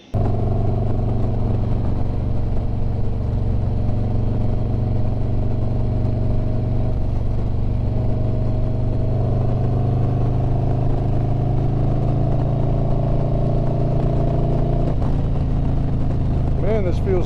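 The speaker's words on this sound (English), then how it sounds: "So we'll take it out for a ride." A motorcycle out on a ride: a continuous engine drone with a steady low hum, rising and shifting in pitch toward the end as it revs, heard up close with no talking.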